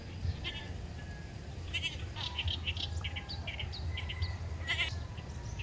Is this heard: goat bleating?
yes